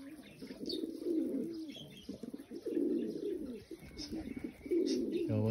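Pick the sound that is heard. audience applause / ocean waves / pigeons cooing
pigeons cooing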